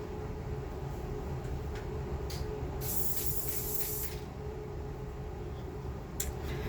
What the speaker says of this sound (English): So let me spray this side.